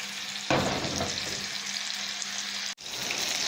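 Beef seekh kababs frying in a pan: a steady, close, full sizzle that jumps in abruptly and holds evenly, briefly dropping out near the end before returning.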